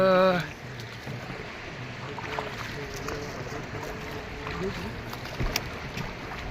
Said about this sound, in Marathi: चला मित्रांनो आता आम्ही चाललेलो आहे बोटिंग फिशिंग करण्यासाठी